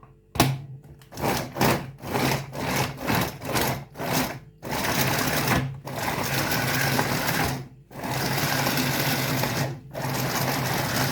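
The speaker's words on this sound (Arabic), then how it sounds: "نحط البصل اهو يا حبايبنا ونفرمه كده" An electric food chopper minces onion in a series of short pulsed bursts, about a dozen quick whirring runs early on, then longer continuous buzzing stretches separated by brief pauses, loud and close.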